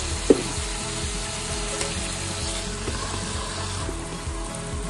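Food frying in a covered pan, a steady, even sizzle that holds at one level throughout with a single soft clink near the start.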